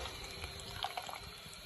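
Water poured from a vessel into a pot of kadhi pakora on the stove, giving a soft, steady splashing trickle with a few brief drips, fairly faint against a low kitchen hum.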